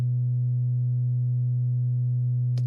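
A single sustained synthesizer note with a strong low fundamental and a stack of steady harmonics, held evenly and loud for nearly three seconds before cutting off with a brief click.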